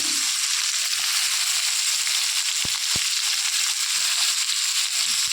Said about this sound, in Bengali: তেল দিলাম এবং লাল লাল করে পটলটাকে নুন হলুদ দিয়ে ভেজে নেব।